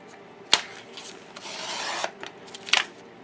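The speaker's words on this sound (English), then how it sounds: "So I'm gonna cut this diagonally, and we will make a corner pocket with this one" Paper cut diagonally for a journal corner pocket, a close rasping slide of the blade through the sheet framed by two sharp snips or taps, with no talking.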